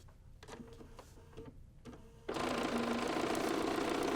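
A sewing machine starts up after a few soft handling clicks and then runs steadily and close, stitching paper-pieced quilt fabric, with no talking.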